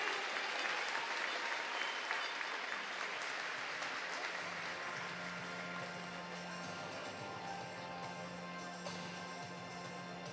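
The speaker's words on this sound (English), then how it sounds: "Everybody, huge cheer for Hannah Miley." Sustained applause from a crowd at a swimming championship, steady and fairly distant, continuing throughout without a break.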